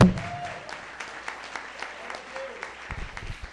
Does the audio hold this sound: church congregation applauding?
yes